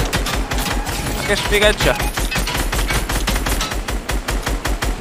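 Rapid bursts of gunfire in the Fortnite battle royale game, dense repeated shots filling the whole stretch, loud and close, with people talking over it.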